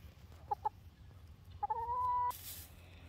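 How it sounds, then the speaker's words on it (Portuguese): A farm rooster gives two short, close clucks, then after a pause a longer drawn-out call, followed by a brief burst of noise at the end, with no speech. "Olha o galo! O galo brabo!"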